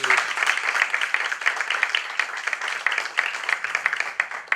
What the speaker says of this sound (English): So please give a round of applause for Fitoti as he comes to the stage.